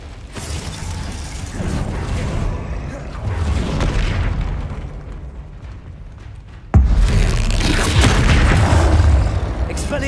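Loud spell blast from Confringo in the Hogwarts Legacy video game, a sudden booming burst near the end of a busy stretch of combat effects and rumbling mechanisms, with a sharp onset that stays loud afterward.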